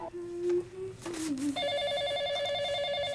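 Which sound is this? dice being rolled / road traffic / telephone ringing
telephone ringing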